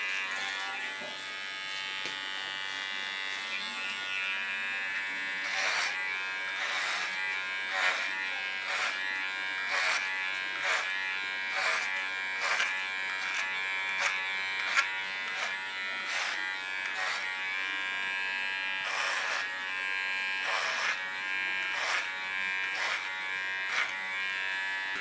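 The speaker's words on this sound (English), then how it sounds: "Using my clipper as a comb. And on the sharpest position I clean the contour line." Electric hair clippers buzz continuously at close range while trimming a short pixie cut, with the tone shifting and brief bursts of crackle as the blades pass through hair.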